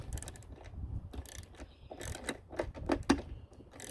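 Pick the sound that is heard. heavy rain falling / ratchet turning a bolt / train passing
ratchet turning a bolt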